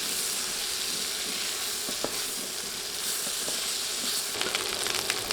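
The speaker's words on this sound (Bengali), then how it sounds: "এখন এগুলো তেলে দিয়ে ভেজে নিচ্ছি" Cauliflower and potato pieces frying in hot oil, a steady close sizzle and hiss throughout with a few light stirring clicks and scrapes, no talking.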